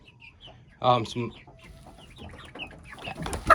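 A mother hen, a naked neck chicken in a backyard, gives short clucking calls nearby, mixed with faint background talk.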